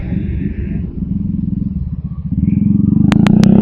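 A motorcycle on a touring ride around Lombok, its engine rumbling close and rising in pitch and loudness as it accelerates, with a few brief high beeps near the end.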